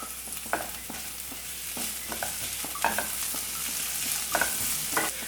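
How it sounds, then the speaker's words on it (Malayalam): Onions, ginger, garlic, green chili and curry leaves sautéing in a pan for mushroom kurma, a close continuous sizzle broken by repeated scraping stirs of a spoon. "ഇപ്പം കണ്ടോ ഈ സവോളയൊക്കെ ആവശ്യത്തിനൊന്ന് വഴന്ന് വന്നിട്ടുണ്ട്"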